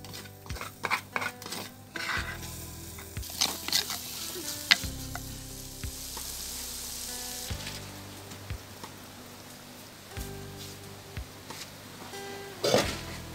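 Kekatiya curry stirred in a pan after salt goes in, with fenugreek seeds in the mix: spoon scrapes and knocks against the pan over a steady sizzle, with a few louder clinks and no talking.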